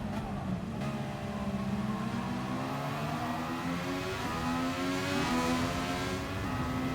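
Race car engine in Gran Turismo Sport, a game engine droning and rising in pitch as it revs through the gears, steady and fairly loud with harmonic whine, no talk over it.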